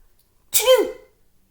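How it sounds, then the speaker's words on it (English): A single loud, close sneeze from a bear in a children's story, a sharp burst followed by a falling voiced tail, standing alone with no talk around it. "The bear tickled the mouse's whiskers and gave an enormous sneeze."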